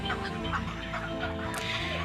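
Broiler chickens on a poultry farm cluck and chatter together in a dense, continuous flock chorus, with overlapping calls rising and falling nearby throughout.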